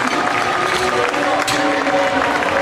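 Crowd applause rises in a powerlifting squat competition hall, a dense, steady wash of clapping that holds for the whole stretch, near and fairly loud, with a little crowd murmur mixed in.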